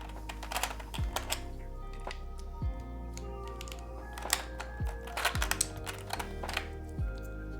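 Typing on a custom-built Envoy keyboard fitted with Mac-style modifier keycaps, a steady run of close, crisp keystroke clicks and clacks with occasional deeper thocks, alone with no talking.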